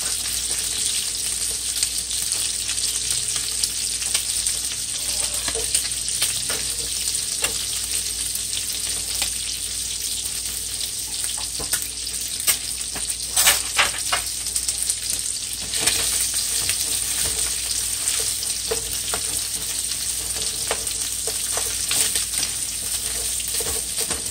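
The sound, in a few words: garlic frying in a pan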